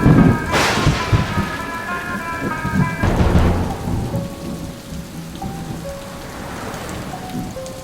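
Heavy rain with thunder, a loud crack near the start and another rumble around three seconds, over a constant downpour hiss, with tonal music notes layered on top.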